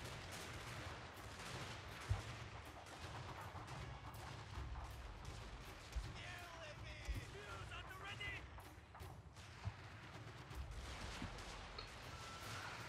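Rifle volleys crackle through a battle in Shogun 2: Fall of the Samurai, a dense, continuous din of massed musketry with sharper single shots standing out every couple of seconds.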